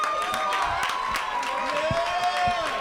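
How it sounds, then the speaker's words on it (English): An audience applauds and cheers for Mark at an indoor gathering, with dense clapping and crowd noise under a sustained tonal hum and scattered voices. "Y'all give a hand clap to Mark up here."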